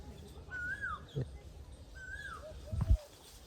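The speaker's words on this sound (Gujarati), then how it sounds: "પાછી કોયલ બોલે" An Asian koel calls twice with rising, whistled notes at a distance, over faint outdoor background noise and a few soft knocks, on a village farm near Botad, Gujarat.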